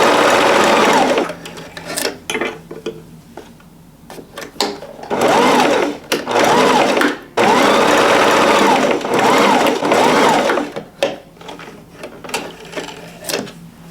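A sewing machine stitches a patch onto bow pillow fabric in loud, close bursts of rapid mechanical whirring, starting and stopping repeatedly with short pauses between runs.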